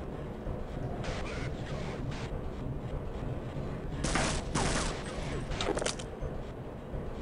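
Bursts of gunfire in Half-Life, sharp shots cracking out in quick clusters over a constant rumble of game background noise, loudest in a couple of heavy volleys toward the end.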